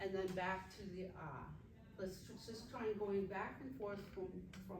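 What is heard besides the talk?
None of the usual background noises is heard.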